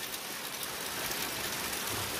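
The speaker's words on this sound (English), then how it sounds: "It's raining." Steady rain falls outdoors around an old Otter Creek, Florida fire truck parked in the weather, a constant close hiss of drops with no talking.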